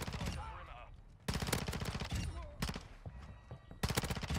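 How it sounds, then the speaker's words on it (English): Rapid bursts of PDSW 528 submachine gun fire in Modern Warfare 2, several short automatic strings of tightly spaced shots, loud and close, with a voice talking between the bursts. "if I'm shooting you, you might want to turn around"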